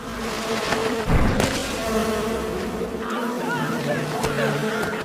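Wasps swarm out of a thrown wasp nest with a dense, continuous buzzing drone that stays loud and close, with a few thuds and other background sounds mixed in.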